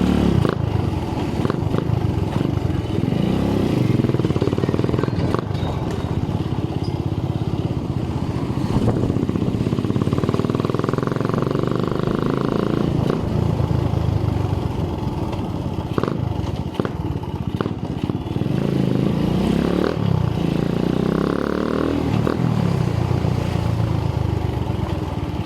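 A Suzuki Raider 150 motorcycle with a carburetor and Podium exhaust pipe revs loudly and close by, its raspy engine rising and falling in repeated throttle blips over a steady idle.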